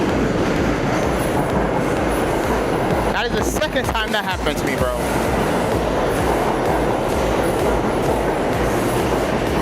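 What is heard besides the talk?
subway train arriving at Atlantic Avenue station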